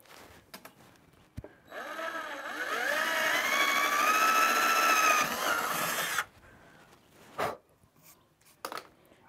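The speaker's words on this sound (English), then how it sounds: "we're just gonna drill a hole straight down in" A power drill bores a hole straight down into a dresser drawer, its motor whining steadily for several seconds at close range. Quieter handling clicks and knocks come before and after.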